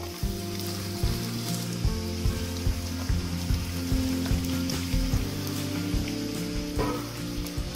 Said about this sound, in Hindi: अब हम इसको पलटकर दूसरी तरफ सेक लेंगे।